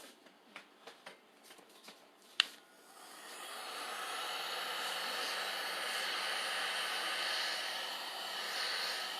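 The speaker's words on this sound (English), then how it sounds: "I could flatten this out with a heat gun, which I'm going to do right now" After a few sharp clicks and a knock, a heat gun switches on and blows a steady, airy hiss at close range over Monster Clay, continuing alone to the end.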